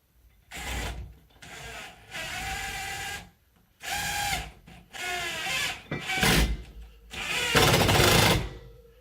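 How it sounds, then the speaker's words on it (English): An impact driver sends a screw into a wall stud while a closet shelf is hung, firing in several close, loud bursts of rattling, hammering whir with short pauses between them. "You know you're in the stud when your impact driver starts to catch like that."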